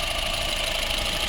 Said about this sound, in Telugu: ఇంజన్ బీడింగ్ వింటున్నారు కదన్న.